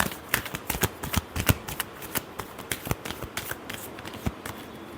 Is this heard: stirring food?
no